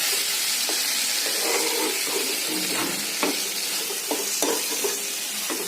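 Goat liver sautéing in a pan, a continuous bright sizzle and hiss with intermittent scraping stirs and light knocks, close and fairly loud throughout.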